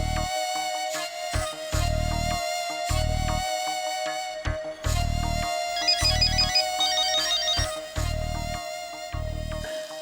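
A mobile phone ringtone repeats a bright melodic pattern over a pulsing low beat, playing on and on, fairly clear and unanswered.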